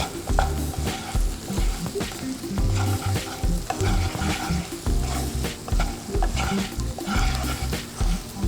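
Masala for a spicy fish gravy sautés in a pan, with a steady loud sizzle and repeated scraping strokes of stirring throughout, no voices.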